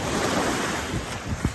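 Surf breaking along Puka Beach on Boracay Island, with rough, strong waves producing a steady wash of broadband noise and wind buffeting the microphone, swelling slightly near the end.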